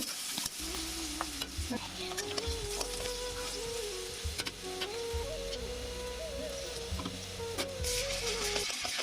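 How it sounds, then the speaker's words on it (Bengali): Onions frying with salt while being stirred, a continuous low sizzle with a persistent mechanical hum and irregular scraping clicks of the spoon, close and fairly quiet, no talk. "পেঁয়াজগুলো ভালোভাবে একটু ভেজে নিচ্ছি"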